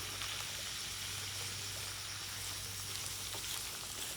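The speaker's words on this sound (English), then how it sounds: "just keep sauteing this down till it's all soft" Squash sautéing in a pan gives a steady, dense sizzle that keeps an even level, with faint stirring underneath.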